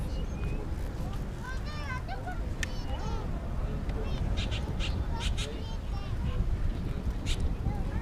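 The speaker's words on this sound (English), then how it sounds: "Got some birds on the fence here." Birds perched on a backyard fence near a Dallas–Fort Worth airport runway call with scattered chirps and caws over a steady outdoor rumble, while someone talks nearby.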